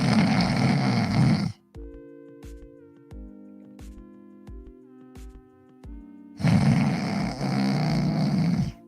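A voice imitates loud snoring, heavy rasping snores at the start and again near the end, with a quiet musical interlude in between.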